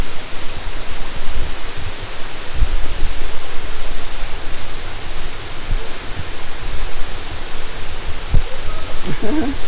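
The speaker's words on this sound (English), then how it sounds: "Oh, watch the waterfall." Steady, broadband rushing roar of a waterfall in Kodaikanal, India, continuous and fairly loud throughout, with faint voices barely audible beneath it.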